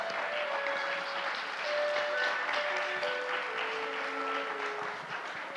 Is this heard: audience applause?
yes